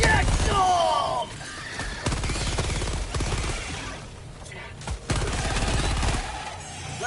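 Rapid gunfire and combat clatter in Helldivers 2 with throwing knives mixed in, a loud dense burst at the start easing into steady firing, with sharp impacts and a voice talking over it.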